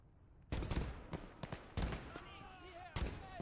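Repeated grenade explosions and gunfire in the WWII strategy game Gates of Hell: Ostfront, several sharp heavy booms spaced about a second apart, loud and close, with a warbling tone between them and a voice underneath.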